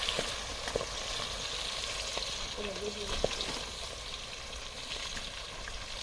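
Pigeon peas and capsicum frying in a pan in a village kitchen, a continuous soft sizzle with occasional clicks from stirring, fairly quiet and close, no talking.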